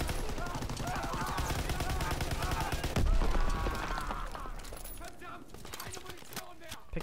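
Bursts of automatic weapon fire in a Call of Duty WW2 Hardpoint multiplayer match rattle steadily at moderate loudness, mixed with game sounds and a voice talking over them.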